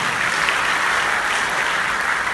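Audience applause at a school concert for a student guitarist performing with a college band, a steady dense wash of clapping from a crowd throughout with no voices.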